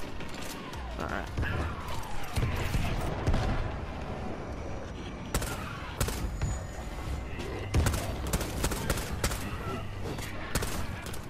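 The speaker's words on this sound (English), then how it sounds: "I'm gonna shoot up some more zombies so I can maybe get some XP on this gun." Gunfire from shooting zombies in the video game World War Z, with loud bursts of shots and sharp impacts in clusters over a dense layer of game noise.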